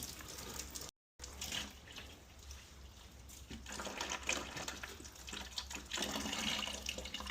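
An open faucet in a house runs water in a steady broadband rush, with rising and falling intensity and a brief dropout near the start. No voices.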